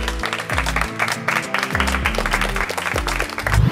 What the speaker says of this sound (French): Applaudissez le coach